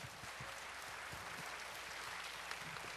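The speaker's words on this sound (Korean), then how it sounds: "오늘 함께했던 15분에게 큰 박수를 보내주시기 바랍니다." Audience applause at a 2012 statistics talk concert, a steady dense wash of many hands clapping that holds evenly for the full stretch with no voices over it.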